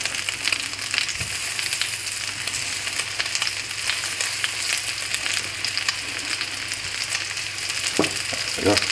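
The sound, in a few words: peaches frying in butter in a pan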